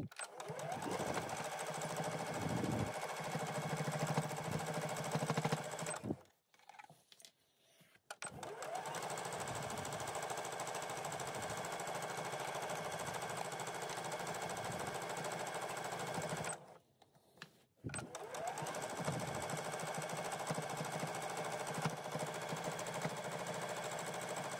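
Sewing machine stitching along a fabric strap, running steadily for long stretches with two short pauses, loud and close with no talking over it.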